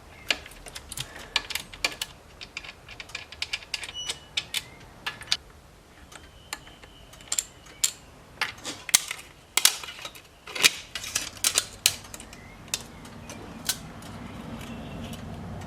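Bolts are tightened back down on a turbo blow-off valve flutter mod, heard as a series of sharp, uneven metallic clicks and taps, close by, scattered across the whole stretch with no talking.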